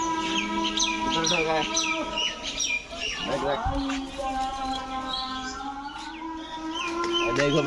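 Baby pigeons call at a pigeon farm, a busy overlapping mix of chirps and coos up close, with people talking nearby.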